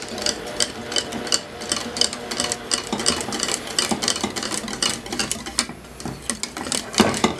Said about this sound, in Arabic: غادي نضيف الزبده ونحرك بسرعه باش تدوب